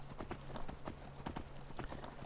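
Horse hooves clip-clopping in a video game on a mountain pass, a steady run of close, quiet hoofbeats over a low background hum, no one speaking.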